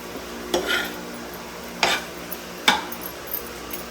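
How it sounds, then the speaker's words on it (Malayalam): Egg just poured into a hot pan is stirred with a utensil, giving three or four sharp scraping clinks against the pan over a steady sizzling hiss, close and clear with no talk. "ഈ മുട്ട ഒഴിച്ച ഉടനെ തന്നെ ഇളക്കണം കേട്ടോ"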